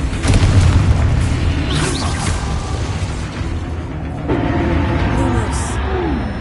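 A Confringo blasting spell explodes in Hogwarts Legacy, a heavy low boom rolling under loud game action and voices, followed by further bursts and ringing effects.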